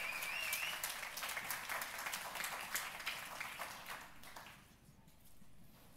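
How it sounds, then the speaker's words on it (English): An audience applauds the unveiling of the Microsoft Lumia 830 smartphone at a launch event: a dense patter of many hands clapping at a moderate distance, fading out over the last couple of seconds. "You can clap, absolutely."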